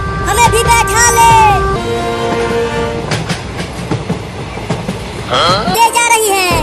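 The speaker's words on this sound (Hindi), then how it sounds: "अरे ट्रेन को रोको।" A passing train rumbles with wheel clatter and bursts of horn, heard close and loud beneath excited shouting voices throughout.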